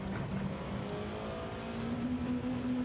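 A touring car in Gran Turismo 7, World Touring Car 800 race at Maggiore, its engine revving up steadily to the top of the rev range in a continuous whining drone with no talk over it.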